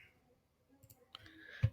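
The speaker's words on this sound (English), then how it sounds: "I'm going to type in" Buttons pressed on a graphing calculator while an equation is typed in, heard as a few faint, close clicks scattered through near-silence, with a slightly louder press at the end.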